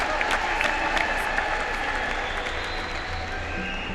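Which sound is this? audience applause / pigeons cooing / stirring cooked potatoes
audience applause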